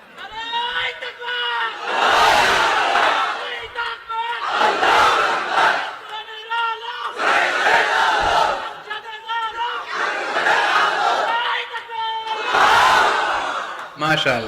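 A large crowd roars the takbir in unison, five loud, rhythmic chanted shouts spaced a couple of seconds apart, each swelling and fading.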